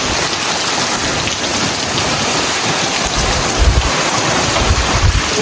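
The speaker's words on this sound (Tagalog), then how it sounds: "Pero grabe yung ulan, no?" Heavy rain pours down without a break during a typhoon-like storm in Canada, a loud dense hiss with deeper rumbling surges near the end, and no voices heard.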